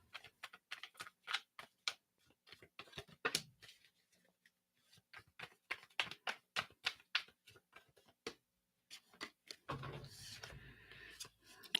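Rapid papery clicks and ticks of tarot cards being shuffled, in bursts with brief pauses, close by, ending in a louder rustling swish.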